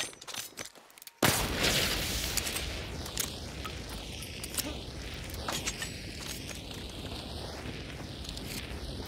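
Scattered distant gunshots in the shooter game Hunt: Showdown 1896 crack out at irregular intervals over a steady, loud rush of wind-like ambient noise that starts abruptly after a brief quiet opening; no voices.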